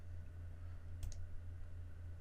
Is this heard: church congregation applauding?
no